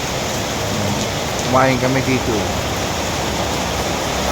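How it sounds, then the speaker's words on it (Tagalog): Heavy rain pours in Vietnam as a loud, dense, constant hiss, with a person speaking briefly over it. "Nabutan kami ng malakas na ulan."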